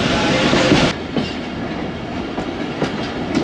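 Khyber Mail passenger train arriving at Chichawatni railway station in Punjab on a foggy, cold day: steady rolling rumble with rhythmic clickety-clack of wheels over rail joints, loud and close, with brief clanks throughout.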